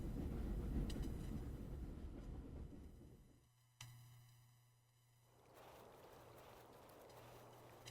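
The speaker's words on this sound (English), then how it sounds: "Rest if this rattling English sheep train allows it." Inside a rattling English sheep train carriage, a low rumbling rattle rolls on quietly, dips and thins for a few seconds, then returns as a steady faint clatter with a low hum.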